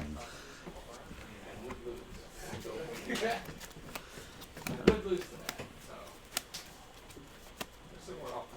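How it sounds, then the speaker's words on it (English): A Magic: the Gathering deck is riffled and shuffled by hand at close range in short bursts of card flutter, with a voice talking over parts of it. "I'm going to go ahead and shuffle it a little."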